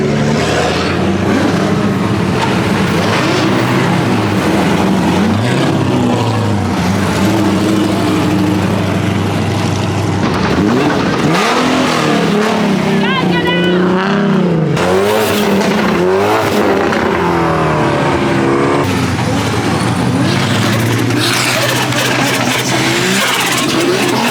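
Drift cars at a two-step event rev hard with squealing tires, a continuous loud roar of engines rising and falling, with screeching tire whines and popping over about 24 seconds, close by and with no talking.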